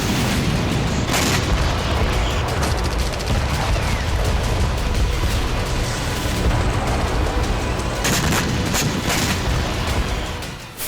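Dense war-zone barrage around Kursk during fighting between Russian and Ukrainian forces: continuous loud booms and explosions mixed with rapid gunfire and bursts of artillery, sustained at high level throughout with sharper blasts near the end.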